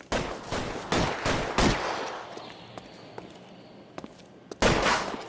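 Gunfire in the video game L.A. Noire, a series of loud, close shots in rapid bursts, a pause with faint clicks and footsteps, then another burst of fire.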